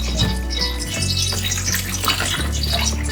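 Chicken gizzards are rinsed in water in a kitchen, giving continuous close splashing and running-water sounds without pause.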